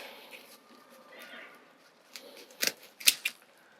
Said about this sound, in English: we're just going to take the roots of them, chop them off